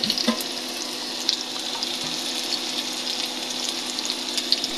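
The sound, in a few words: frying onions and chilies in a pan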